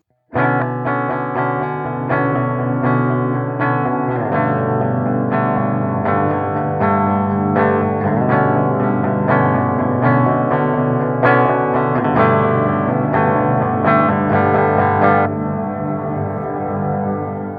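Sustained, swelling electric guitar chords run through a Pigtronix Cosmosis effects pedal, forming a thick, smeared pad-like tone with chorus and distortion, loud and continuous, no voices.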